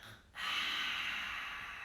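An energetic breath pushed out through a wide-open mouth during a yoga exercise, one long breathy rush that starts abruptly and holds steady, close and fairly soft, with no voice over it.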